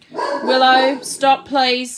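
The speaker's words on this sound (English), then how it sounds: "that's my dog" A pet dog barks and yips in a rapid run of high, harmonic yelps up close, pausing briefly before barking again, while a woman tells it to stop.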